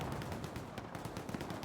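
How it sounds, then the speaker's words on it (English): Gunfire in the World War II shooter Hell Let Loose comes as dense, rapid bursts of rifle and machine-gun shots. The shots sound distant and muffled, with a rumbling, continuous texture. "just creating gunfire noises to add misinformation"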